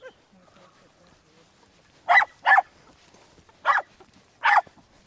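A reactive dog on a lead lets out four sharp, frustrated scream-barks: two close together, then two more spaced apart, against an otherwise quiet background.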